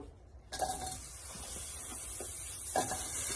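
Chopped, washed eggplant lands in a pan of sautéed beto shak greens cooked without oil, then a spatula scrapes and stirs with a soft sizzle, close and steady, with a second clattering push near the end.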